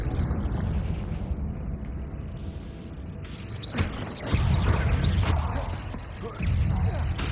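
A Confringo spell explodes in Hogwarts Legacy, with a few heavy booming blasts over dense, rumbling game noise and a voice heard faintly in the mix.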